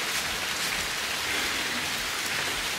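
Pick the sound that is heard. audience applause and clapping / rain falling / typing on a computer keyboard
rain falling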